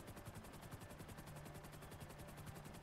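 In the game GTA V, a helicopter's rotor chops in a steady rapid pulse close by, with bursts that may be gunfire mixed in, and no talk over it.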